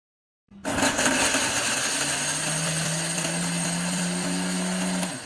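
An electric grinder whirs steadily, grinding spices into tandoori masala powder, starting abruptly and holding a loud, even motor drone with rising tonal whine for several seconds before stopping.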